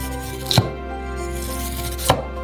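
A knife cutting carrots into thin slices on a board, two sharp chops about a second and a half apart over a steady background hum.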